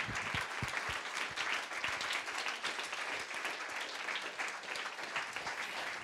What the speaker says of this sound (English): And we can give all of them a round of applause, because we are one family.